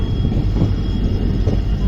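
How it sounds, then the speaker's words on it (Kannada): The Shivamogga Town–Mysuru Express, train 16226, pulls in with a steady low rumble at a station platform, fairly loud and continuous for a couple of seconds, with no clear talk. "4ನೇ ಪ್ಲಾಟ್ಫಾರ್ಮಿಗೆ ಬಂದೈತಿ ಟ್ರೈನ"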